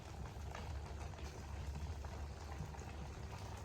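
Tea boils in a pot with a faint, continuous bubbling hiss and a low, steady rumble that holds level throughout.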